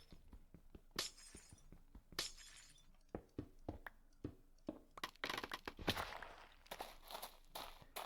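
Glass blocks shattering in Minecraft, with several sharp breaking crashes scattered among quick repeated clicks and placing taps, fairly quiet overall and denser toward the end.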